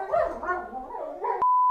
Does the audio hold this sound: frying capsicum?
no